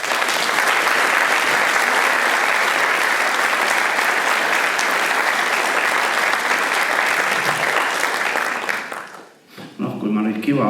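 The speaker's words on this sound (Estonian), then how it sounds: "Katariinale sobiks aplaudeerida tänu täheks." A school graduation audience applauds in a loud, dense, sustained round of clapping that fades out near the end, after which a voice briefly begins to speak.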